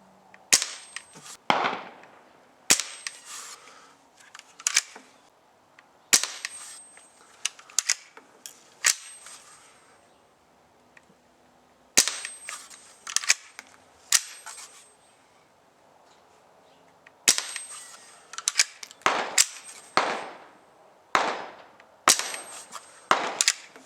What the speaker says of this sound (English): Now we'll just shoot some of this Aguila.